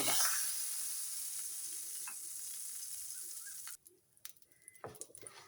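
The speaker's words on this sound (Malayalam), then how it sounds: "ഈ റവയൊന്ന് നല്ലോണം വറുക്കണം നെയ്ക്കകത്ത് ഒന്ന് വറുക്കണം" Loud, steady sizzling of semolina roasting in ghee for several seconds, then it drops away to quieter scraping and stirring clatter.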